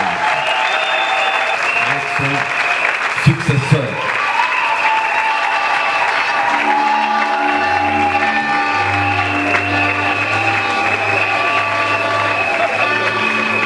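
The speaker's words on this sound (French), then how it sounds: "Est-ce que vous ne pouvez pas applaudir très fort" A church congregation at a pastor's investiture breaks into loud, sustained applause that fills the hall, while someone speaks French over a microphone and a low musical tone hums underneath.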